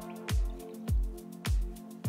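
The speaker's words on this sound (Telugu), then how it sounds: "ఇందులో మళ్ళీ 1 కప్పు నీళ్లు పోయాలి." Water is poured into paneer masala gravy in three separate wet plops, each a thick splash with a short bubbling tail, close and clear with no talk.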